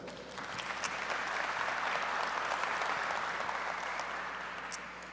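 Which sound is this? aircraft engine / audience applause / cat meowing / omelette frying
audience applause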